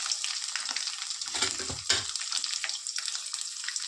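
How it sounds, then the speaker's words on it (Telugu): Mustard seeds, cumin and crushed garlic fry in hot oil for a tempering, a loud continuous sizzle with popping bursts and spatter, strongest in the middle, with no voices. "ఇంకా సిమ్లో పెట్టాను, బాగా వేగుతుంది పోపు."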